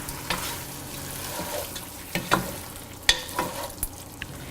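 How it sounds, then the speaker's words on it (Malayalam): Chicken curry in a pan being stirred now and then, with a few scraping spoon knocks over a steady low sizzle of cooking, close and moderately quiet, no talking. "ഇത് ഇടയ്ക്കിടെ ഇളക്കി കൊടുക്കുവാൻ മറക്കരുത്"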